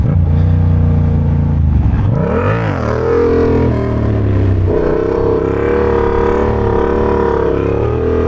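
A motorcycle engine revs hard and continuously during a wheelie, loud and close, with a sweeping dip and rise in pitch as the throttle is rolled off and back on.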